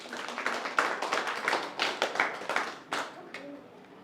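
An audience at a Buddhist community gathering gives a round of clapping for a correct quiz answer, a close, brisk burst of hands that thins out and fades after a few seconds.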